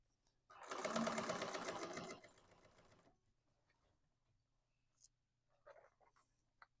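A sewing machine back stitches a tote bag in a steady one-and-a-half-second burst, then slows and stops, leaving quiet handling noises and faint taps afterward.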